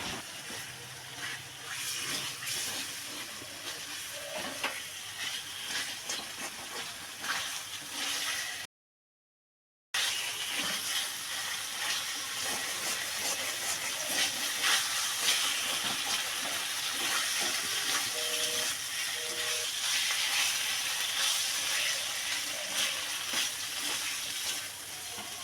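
Boiled potatoes fry in oil while being stirred and mixed, a steady close sizzling hiss that runs almost throughout with a brief gap, and no one speaking.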